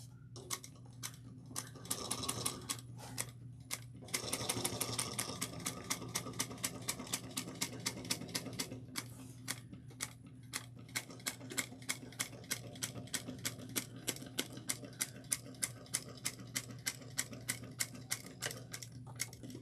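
A sewing machine stitches a rose-gold tote bag in quick runs of rapid mechanical ticking. The runs stop and restart while the fabric is turned, then settle into an even stitch rhythm, fairly faint and with no talking.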